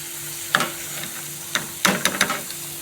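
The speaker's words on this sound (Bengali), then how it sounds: "একটু গোল্ডেন সুন্দর ভাজা হয়ে গেছে।" Paneer 65 pieces fry in hot oil with a steady soft sizzle, broken by a few sharp clinks and scrapes of a utensil stirring and lifting the pieces.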